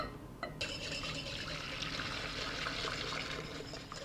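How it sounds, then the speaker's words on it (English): Still-warm cream poured over softened gelatin for a tonka bean panna cotta, a steady close liquid trickle and splash running for several seconds with no talking. "then pour over the still warm cream over the gelatin"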